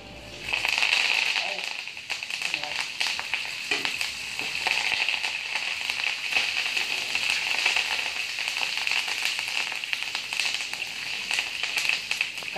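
Curry leaves hit hot oil for a drumstick and tomato curry, setting off a dense, steady crackling sizzle with sharp pops that lasts the whole stretch, close and fairly loud.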